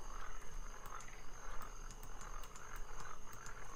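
A frog in Rusty Lake: Paradise croaking softly in a steady, rattling rhythm of repeated short calls, faint and close over a quiet hum with no talk.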